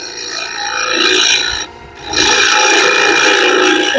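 A skew chisel cutting a pasta-in-resin blank spinning on a lathe, a loud close rasping scrape that runs steadily, breaks off briefly as the tool lifts, then resumes.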